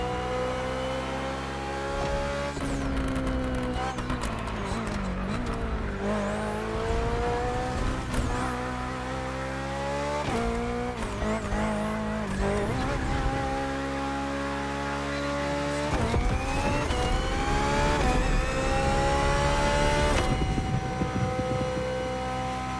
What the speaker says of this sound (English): Just focus on being the best. The Hybrid V8 will do the rest.